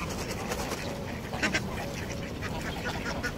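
Ducks quack at a lake park in Abu Dhabi, scattered calls over a busy outdoor background while people talk nearby.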